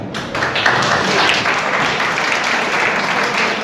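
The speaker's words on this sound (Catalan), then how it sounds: "Aplaudiment." Steady applause from a crowd at a prize-giving ceremony, dense clapping that holds at an even level throughout, with a faint murmur of voices mixed in.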